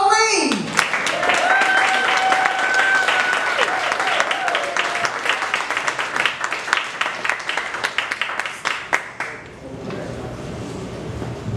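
Sustained crowd applause at a spoken word and storytelling evening, many hands clapping, loud and dense, tapering off near the end as a voice begins to speak.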